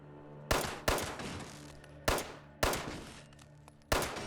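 Five sharp revolver shots in Fallout 76, spaced unevenly, each a loud crack followed by a decaying echo over a low background hum.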